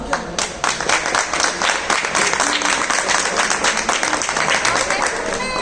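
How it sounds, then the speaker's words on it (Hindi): Loud applause from a crowd, dense steady clapping throughout, with a voice briefly audible beneath it. "बहुत ज़बरदस्त ताली।"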